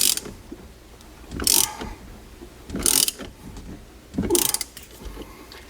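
A ratchet working on the steering wheel bolt of a Ford F-150, heard as four separate bursts of clicking and grinding spaced about 1.4 seconds apart, close but fairly quiet between strokes.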